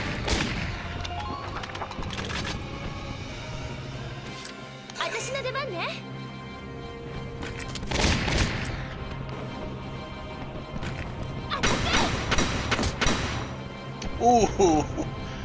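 Gunshots ring out in the video game Valkyria Chronicles, several sharp bursts spread through the clip that mix with game sounds while someone talks over them.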